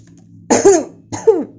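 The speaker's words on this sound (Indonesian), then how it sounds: "Sorry, batuk." Two short, harsh coughs a half-second apart, close and fairly loud, with nothing else around them.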